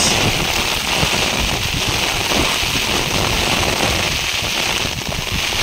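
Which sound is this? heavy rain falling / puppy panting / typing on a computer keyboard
heavy rain falling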